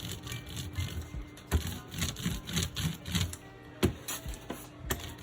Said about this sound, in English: using the roller, I will roll the ink on the top